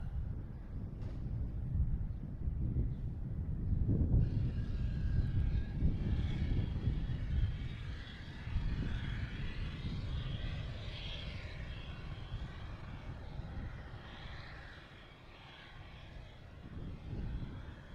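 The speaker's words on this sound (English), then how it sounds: "Next up is American Airlines coming from Charlotte. Let me see, flight 2447 A321." An American Airlines Airbus A321 from Charlotte at Boston Logan Airport sends up a steady, loud jet roar with gusty wind noise on the microphone, swelling around four seconds in and rumbling on without pause.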